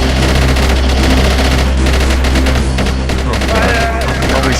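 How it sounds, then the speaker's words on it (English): Dense, continuous automatic gunfire and explosive battle noise from the Arma 3 military video game, loud and sustained throughout with brief voice chatter mixed in. "Oh shit! Someone shot me."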